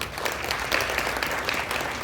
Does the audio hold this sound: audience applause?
yes